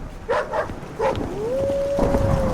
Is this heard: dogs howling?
yes